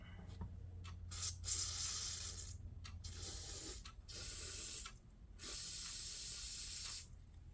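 Aerosol cleaner sprayed through a carburetor part from a Honda EG1400Z generator, heard up close as three or four loud hissing bursts of a few seconds each, separated by short pauses.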